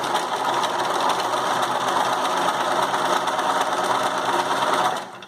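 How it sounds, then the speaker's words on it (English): A sewing machine hums continuously and loudly, stitching a fabric seam edge to edge along the sides of a drawstring bag, then stops abruptly at the end. "Make sure you're sewing from edge to edge on your fabric."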